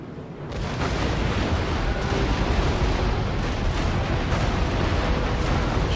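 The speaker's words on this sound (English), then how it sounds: "Shooting into the front of that ship's not ideal, but it still does quite a bit of damage." Warship broadsides in Empire: Total War, a dense, loud barrage of cannon booms and rumbling blasts rolling on continuously with no pauses, no voices over it.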